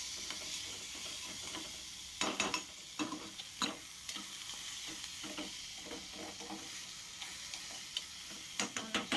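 Chopped onion and tomato sizzle in hot oil, with a steady frying hiss and repeated scrapes of a spatula stirring the pan at close range.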